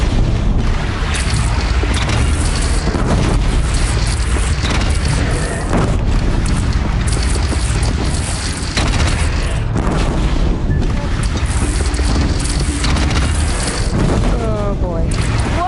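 A bridge blown apart in the video game Horizon Zero Dawn, a loud sustained rumble of explosion and debris under game music and voices, continuous and dense throughout.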